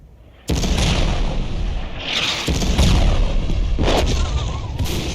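Heavy weapon explosions from a modded Ravenfield battle, loud booming blasts that rise suddenly and roll on in overlapping rumbling waves with sharp cracks.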